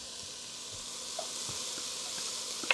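Vegetables for stuffed peppers sweating down in a pan, giving a soft, steady sizzle with a few faint ticks and one sharper clink near the end, no voices.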